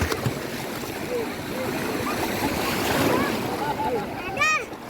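Surf at Ulee Lheue beach in Banda Aceh rolls in as a steady, fairly loud wash of water and wind noise, with voices faintly present and a brief high cry near the end.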